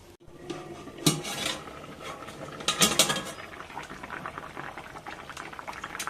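Potatoes and fried brinjal simmer in a covered pot for a shukto, a steady bubbling boil with a few sharp clinks of lid and utensil early on, close and fairly quiet.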